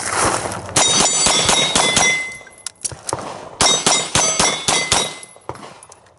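Gunshots ring off steel targets in a fast shooting drill: two rapid strings of sharp cracks, each followed by a bright metallic clang that hangs briefly, loud and close, with a short pause between bursts.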